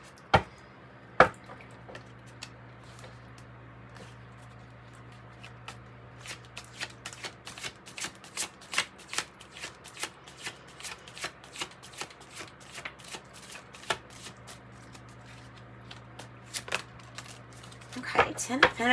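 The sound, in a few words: shuffling tarot cards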